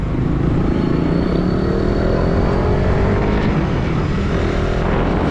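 Steady motorcycle engine drone and wind roar while riding at low speed on a road in Ibaan, Batangas, loud and continuous throughout with no talking.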